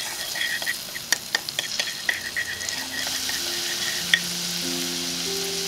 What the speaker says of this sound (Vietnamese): Mình cho vào nửa muỗng canh hành tỏi, phi lên cho thơm.